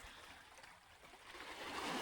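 Gentle water lapping in at the shore of a sandy spit on a calm sunny afternoon, a faint, soft continuous wash that swells slightly toward the end, with no voices.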